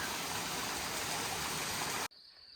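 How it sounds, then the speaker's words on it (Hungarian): Water cascades beside a mountain path in the Austrian Alps, a loud, steady rushing roar up close that cuts off abruptly near the end, leaving quiet background. "Ahogy megyünk felfele a hegyen, folyamatosan esik a víz mellettünk."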